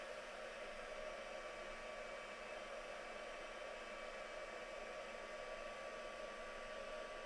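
Heat tool blowing hot air onto a craft project from above, a steady whooshing electric fan roar with a faint motor whine, constant and fairly close throughout with no talking.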